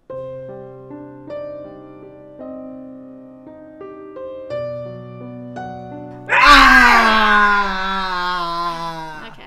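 A loud, sudden scream bursts in partway through as the scary pop-up in MovieStarPlanet, cutting over a calm melodic game tune and ringing out strongly to the end.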